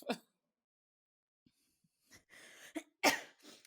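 A single sharp cough up close, followed by quiet and then a few breathy, throaty bursts that end in another strong cough.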